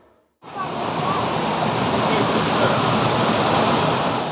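Malian Spout Waterfall on Gotland roars as a dense, steady rush of falling water that starts abruptly after a brief quiet moment and then holds loud and constant.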